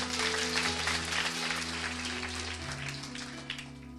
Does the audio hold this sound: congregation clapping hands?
yes